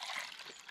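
Water being poured into a pasta pot at a Christmas campsite, a brief, soft trickling splash lasting under a second, fairly quiet.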